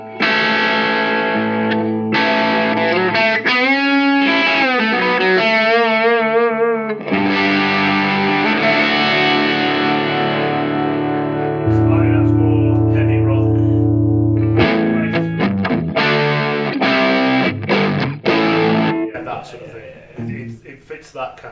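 Gibson Les Paul electric guitar played through distortion and effects, chunky chords and sustained notes ringing loud and continuous, with a modern, saturated tone and some chorus-like wobble.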